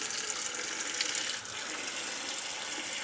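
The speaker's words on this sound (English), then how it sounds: "Okay, water's warm." Warm water runs steadily from a kitchen tap, a close, even hiss of flow that eases slightly partway through, with no one talking.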